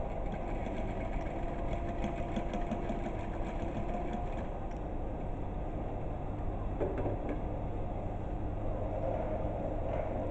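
Sewing machine stitching across fabric, a soft steady whirring hum with a quick mechanical rattle running continuously at low volume.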